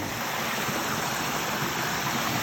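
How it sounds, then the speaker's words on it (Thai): A waterfall behind a temple in rural Thailand gives a steady, loud, broadband rush of falling water, unbroken and close. "เลยมาเห็นน้ำตกสวยงาม"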